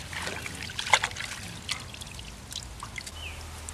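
Water pours and trickles softly as it washes dirt off the roots of a struggling tomato plant, with faint splashes and irregular dribbling and no talking.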